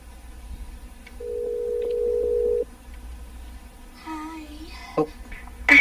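During a video call, a phone gives a single steady electronic call tone for about a second and a half, then faint murmurs, soft clicks and a short beep follow in a quiet room.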